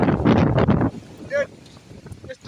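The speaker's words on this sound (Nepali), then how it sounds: "यस्तो डरलाग्दो चलिरहेछ आज हावा।" Strong wind blasting in Sikkim under a cloudy sky, roaring and buffeting loudly against the microphone for the first second before easing into a quieter, steady rush with a brief higher-pitched sound in the middle.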